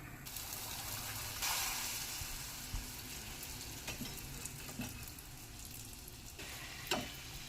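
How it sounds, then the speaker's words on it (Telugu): Puris deep fry in hot oil, a quiet, continuous bubbling sizzle with occasional sharper crackles and a few soft clinks scattered throughout. "ఇలా వేయించుకోవాలండి పూరీలన్నీ."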